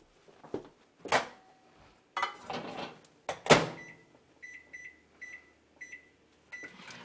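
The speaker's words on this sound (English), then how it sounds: "we're going to heat up our tortillas in the microwave just for a little bit" Clattering and a door thud, then a run of short electronic beeps from a microwave being set to heat tortillas, with steady quiet between.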